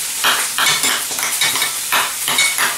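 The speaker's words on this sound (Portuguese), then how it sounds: "Vamos picar aqui um pouquinho aqui a nossa batata, mandar aqui mesmo com a colher" Well-cooked potato is chopped with a spoon in a pan, giving rhythmic scraping metal clinks against the pan at about two per second, close and fairly loud over a light sizzle.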